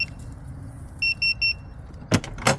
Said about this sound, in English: Beep twice, it should tell me that it is locked.